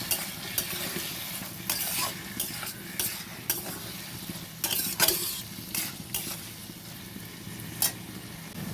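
Banana flower curry being stir-fried in a pan sizzles steadily, while a spatula scrapes and clinks against the metal in sharp, irregular strokes, close up with no talk.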